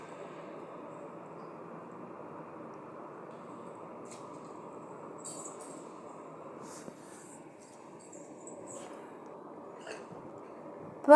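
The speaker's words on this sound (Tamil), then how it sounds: "இப்போ அது நல்லா கொதிச்சிருச்சுங்க." Water and rice boiling together in a pot for chicken biryani, a soft, steady bubbling hiss that holds at an even low level throughout, with no voices.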